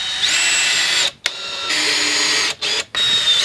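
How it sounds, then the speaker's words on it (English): A power drill drives screws into a plywood swarm trap lid in three loud, sustained whining bursts with short pauses between, heard up close and alone. "then we're going to screw the lid of these swarm traps onto the plywood"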